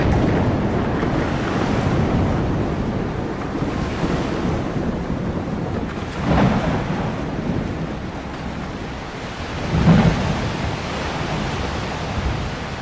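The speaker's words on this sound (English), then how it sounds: "if you guys didn't hear any of that because of the sea and the thunder clapping" Stormy sea waves and wind in Mount & Blade II: Bannerlord during sailing, a loud continuous roar of surf and gusting wind with a couple of heavier surges, no voices.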